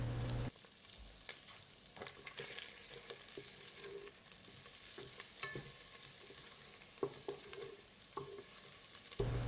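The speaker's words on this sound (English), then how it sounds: "melt 2 tablespoons butter, then saute 3 garlic cloves finely chopped until fragrant" Finely chopped garlic sautés in melted butter in a pan or rice cooker, a faint, steady sizzle with frequent light scrapes and taps of a utensil stirring, without speech.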